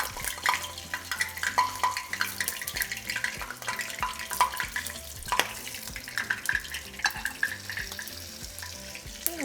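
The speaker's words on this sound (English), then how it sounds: "once our oil is nice and hot, we're going to place the taquitos in, seam down" Ground beef and potato taquitos frying in hot oil in a pan, a steady crackling sizzle with small pops and occasional clinks of utensils, close and continuous with no talking.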